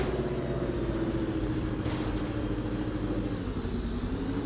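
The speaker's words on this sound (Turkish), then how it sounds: "Buggy varsa adam da olabilir." Buggy engine driving in the PUBG Mobile video game, a steady mid-pitched drone at constant loudness with no talk.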